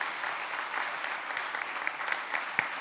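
Guests at a Yonsei University alumni New Year evening applaud Minister of Foreign Affairs Kang Kyung-wha, a steady, fairly loud round of clapping filling a hall, with no talking over it.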